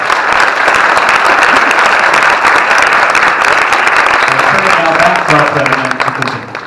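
A crowd at Rep. Price's town hall in US politics breaks into loud, sustained applause that stays even for most of the stretch, then tapers off as a few voices come through.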